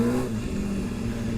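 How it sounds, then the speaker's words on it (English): City traffic at 3 p.m., a car engine rumbling and revving nearby with a steady low drone, brief and fairly close. "there's a lot of traffic right now"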